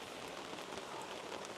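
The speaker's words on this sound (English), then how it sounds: "It is pouring with rain, it has been the entire day" Heavy rain pours steadily during a solo camping trip, a dense, even hiss of drops drumming on surfaces throughout, close and continuous with no voices.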